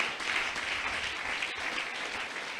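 An audience claps in steady, continuous applause that holds an even, moderate level throughout, with no voices over it.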